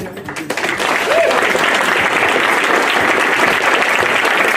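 Convention audience at Vul-Con 2018 breaks into sustained applause after a quiet start, a dense wash of clapping that holds loud and steady throughout.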